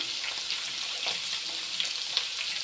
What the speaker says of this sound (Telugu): చికెన్ ముక్కలు అయితే ఆయిల్లో వేసుకున్నాను వీటిని కొంచెం ఫ్రై అవ్వనివ్వాలి